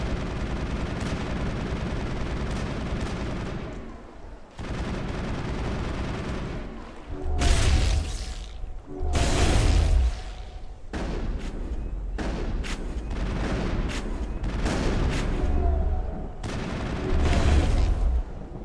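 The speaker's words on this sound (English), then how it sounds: "Trying to track where Garrus is shooting at." Garrus's gun fires in the Mass Effect 1 video game, loud sustained bursts of gunfire broken by short pauses, with heavy booming impacts standing out among the rapid shots.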